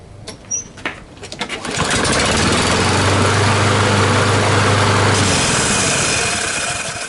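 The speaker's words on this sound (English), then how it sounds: "it's still making a lot of noise. That flywheel isn't smooth." A Kohler 149cc XT lawn mower engine on a Lawn-Boy AWD mower, with a rough, noisy flywheel, sputters through a few uneven bursts, then catches and runs loud and steady at a constant drone before easing slightly at the end.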